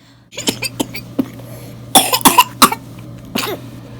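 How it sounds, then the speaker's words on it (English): A baby coughs repeatedly in short, close bursts, with a few quick coughs clustered together and brief pauses between them. "She's like that, just coughing a lot."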